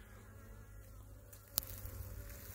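Honeybees from two colonies hum steadily around their hives in an apiary set in a chestnut forest, a soft continuous buzz close by, with a brief sharp click partway through.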